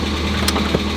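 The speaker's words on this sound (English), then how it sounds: "you can hear a kind of knocking noise. It's not the engine knocking, but it is lifter tick in a Miata" A Mazda Miata engine idling with lifter tick, a steady close mechanical drone carrying a faint light ticking, running alone for about a second.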